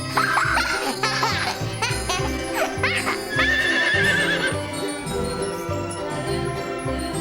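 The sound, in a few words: horse neighing and hooves clip-clopping during a ride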